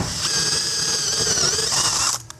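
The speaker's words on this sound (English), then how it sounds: "We're gonna go ahead and drill this hole a 1/2 inch" A power drill bores a half-inch hole into a deck, a steady high whine running for about two seconds before cutting off abruptly.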